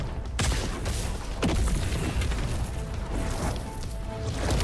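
A loud, dense whooshing roar with crashing bursts from a tornado ability in the Roblox game Project Slayers, sustained and harsh throughout without pause.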